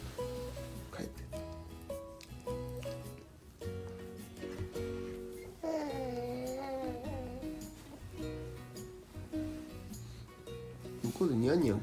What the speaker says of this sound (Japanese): 向こうでニャンニャン声聞こえた。